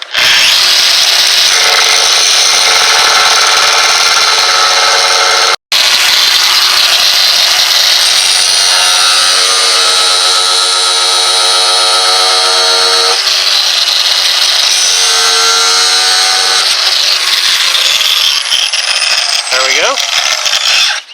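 A loud angle grinder whines continuously for about twenty seconds, cutting off a metal sway bar end link on a Plymouth/Dodge Neon with a shrill, steady screech and a brief cutoff near the start.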